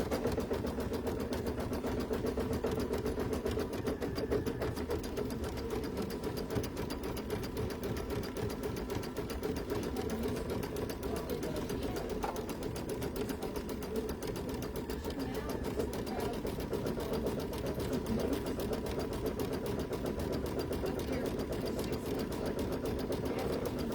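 An embroidery machine stitches a zigzag border around an in-the-hoop pumpkin placemat, a fast continuous mechanical whirring with a rapid needle rhythm, steady and moderately close for the whole stretch.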